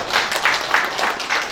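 An audience at a university student talk concert applauds, a brief burst of steady close clapping with no talk.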